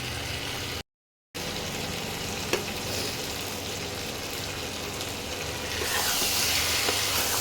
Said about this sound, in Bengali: মাংসটা একটু কষিয়ে নিই মাংসটা দিয়ে তেল ছাড়বে